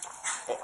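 A sick dog whimpers close by in a brief, high, thin whine that rises and falls over less than a second.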